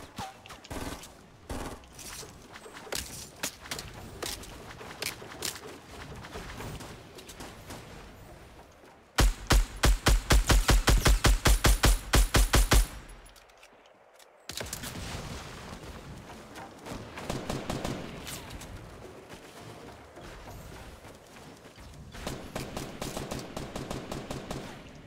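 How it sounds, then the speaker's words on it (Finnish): Rapid automatic gunfire in a Fortnite 50v50 match, with bursts of sharp repeated shots, one loud close volley in the middle and more distant rattling fire before and after. "Tuolta ammuskellaan."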